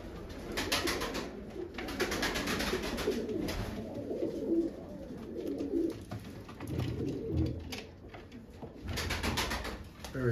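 Pigeons cooing in a coop in Çatalca, repeated soft throaty coos from several birds close by, with wing flutters and rustling, continuous over about ten seconds.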